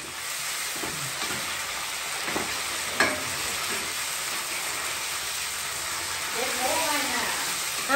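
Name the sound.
sautéing tomatoes in a pan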